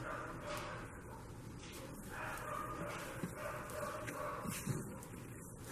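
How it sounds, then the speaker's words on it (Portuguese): Dogs bark and yip faintly in the background at a home during bread making, scattered and distant, under a steady noisy room tone. "saindo som de uns latidos aí"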